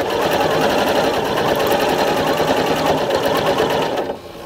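A Janome Continental M8 sewing machine runs steadily at speed while quilting along a ruler, a loud continuous motor whir with rapid needle chatter that stops abruptly near the end.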